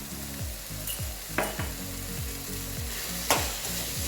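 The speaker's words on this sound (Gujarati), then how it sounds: "હલાવીશું બધે મિક્સ કરી લઈશું" Green turmeric curry with Kashmiri chili and salt frying in a pan while being stirred, a steady sizzle broken by rhythmic scraping strokes and a couple of sharper clanks.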